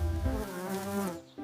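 A single bee buzzes steadily close by for a moment, its droning tone bending in pitch partway through before fading.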